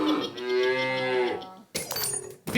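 A cow moos loudly in You Don't Know Jack, one long drawn-out low call as a comic interruption, followed by a brief burst of game sound effects.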